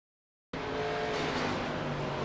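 Onboard audio from a race car in an Xfinity Series race at Talladega Superspeedway: after a half-second of silence, a loud, steady, close engine drone with strong harmonic tones roars on without a break.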